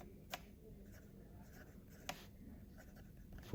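A Leonardo MZero Grande fountain pen with a Fude nib scratches faintly across paper in a quiet room, with two brief sharper ticks and soft, intermittent strokes.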